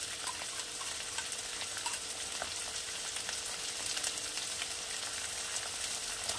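Chicken pieces sizzle and fry steadily in a pan while being stirred during Bengali chicken tehari preparation, a continuous close crackle with faint scraping and no voices.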